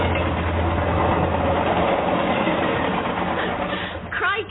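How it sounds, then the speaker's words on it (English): A train passes on a main line right beside a house, a loud, steady heavy rumbling roar of rolling wheels and engine filling the whole stretch, easing slightly near the end. "Those trains would be frequent."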